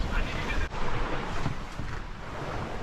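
Wind blowing across a sailboat at sea, mid-Pacific: a loud, constant rushing gust buffeting the microphone, mixed with the wash of waves against the hull.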